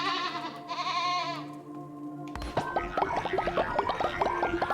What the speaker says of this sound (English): Didn't know you can make little sheep noises.